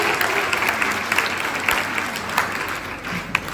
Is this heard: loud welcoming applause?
yes